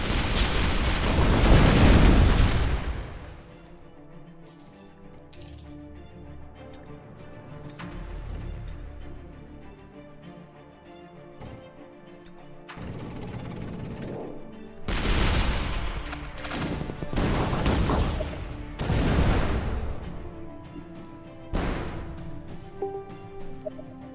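Tank weapons in Shellshock Live fire and explode in repeated loud booms and crackling bursts, spaced apart with quieter gaps of game ambience between them.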